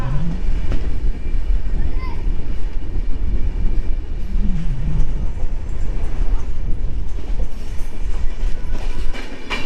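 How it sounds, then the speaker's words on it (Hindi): Coromandel Express pulling out of Eluru railway station, a steady loud rumble of rolling wagons with faint wheel clatter and scattered voices nearby throughout. "एलुरु रेलवे स्टेशन से डिपर्चर हो गया।"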